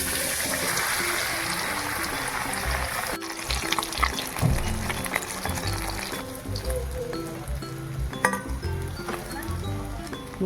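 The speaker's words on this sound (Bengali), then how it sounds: "বন্ধুরা এভাবে আমি সবকটা মাছকে ভেজে নেব।" Marinated Guraoli fish pakoras, coated with Kashmiri chilli powder, fry in hot oil with a steady, dense sizzle and hiss, broken by occasional light clinks of a utensil.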